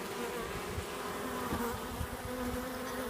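Honeybees from a package being installed at a hive hum in a dense, steady drone, close and continuous with no talk over it.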